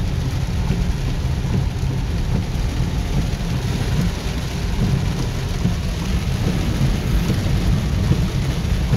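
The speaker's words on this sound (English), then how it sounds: "We're right in the storm." A tropical rainstorm with thunder and lightning pours down as a dense, loud, continuous roar of rain, with deep rumbling thunder beneath it and no voices.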